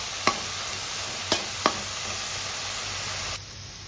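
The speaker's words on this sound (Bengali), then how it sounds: "তারপর এটাকে আমি আঁচ কমিয়ে বেশ কিছুক্ষণ আস্তে আস্তে ভেজে নেব।" Spinach with salt and turmeric fries slowly over low heat, giving a steady soft sizzle broken by three sharp spoon taps, and the hiss drops quieter near the end.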